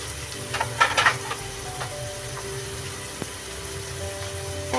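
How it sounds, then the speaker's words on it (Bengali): Garam masala fries with chopped onion in a pan for a chicken kabsa, a soft steady sizzle with a few scraping stirs early on and a faint clink near the middle. "তারপর নেড়ে চেড়ে একটু ভেজে নিতে হবে।"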